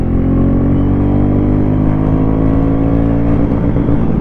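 Royal Enfield Classic 350 motorcycle accelerating in first gear, a steady, loud, close single-cylinder engine drone with rising harmonics, unbroken and with no talk over it.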